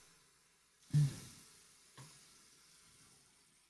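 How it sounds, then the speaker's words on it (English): Tap water runs faintly into a water bottle, a steady hiss with a sharper splash near the start and a smaller one a second later, quiet and close, no voices. "I do apologize for the high-pitched sound of running water."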